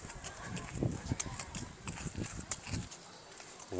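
Horse hooves clip-clop at a busy outdoor park in Malaysia during a horse ride, a steady close run of knocks with people chatting around.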